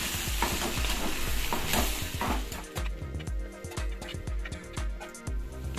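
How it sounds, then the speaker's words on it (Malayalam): Chili powder, coriander powder and garam masala being stirred in a clay pot, a loud close sizzle giving way to a run of scraping, knocking spoon strokes against the pot, no voices. "നമുക്കൊന്ന് മിക്സ് ചെയ്ത് കൊടുക്കാം."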